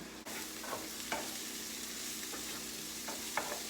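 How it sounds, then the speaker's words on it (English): Onions fry in a pan with a steady, close sizzle, broken now and then by short scraping stirs. "Onions are cooking very nicely."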